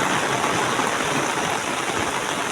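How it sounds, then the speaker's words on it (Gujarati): Heavy rain pours down with running water streaming nearby, a dense, loud, unbroken hiss and rush that holds steady throughout. "તમે જુઓ એ આરે વરસાદ ઘડીક વારમાં જબર ભરી નાખ્યું।"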